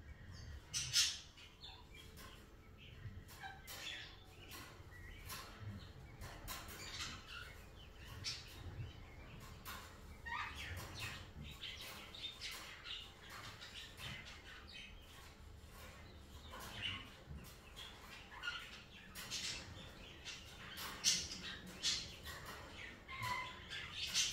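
A flock of guinea fowl on a farm on a rainy day gives harsh, rapid, repeated squawking calls, a continuous busy chatter at moderate distance with no talking.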